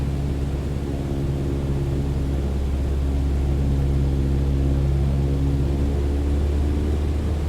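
An aircraft engine in a flight simulator game producing a steady loud droning hum with tonal harmonics and a slight easing in pitch as the throttle is pulled back, running continuously with no other sounds.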